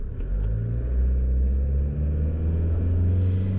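Toyota HiLux pickup engine pulling hard at full throttle while towing a trailer dyno, a loud, steady low rumble heard from inside the cab, with engine pitch slowly climbing and a brief shift near the end.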